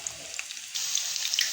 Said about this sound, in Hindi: अब हम कड़ी को बिगाड़ देने के लिए हमने ऑयल गरम कर लिया है। इसमें डालेंगे हम प्याज।